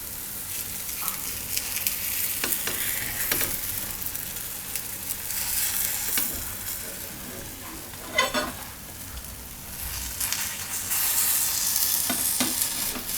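Mango pudla, a sweet pancake, cooks in a pan with a steady close sizzle and frying crackle, broken by occasional scraping and stirring clicks as it is worked, with no talking.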